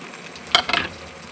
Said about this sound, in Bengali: মাংসটা এবার ভালো করে তেলে নেড়ে চেড়ে ফ্রাই করে নেবো